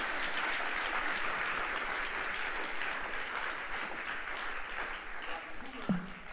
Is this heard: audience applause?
yes